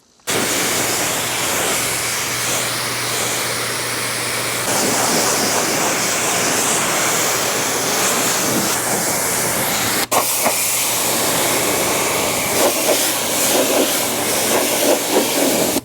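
A pressure washer blasting tar off a large Ford truck during mobile detailing, giving a loud, continuous hissing spray that shifts intensity midway, with a sharp knock near the end.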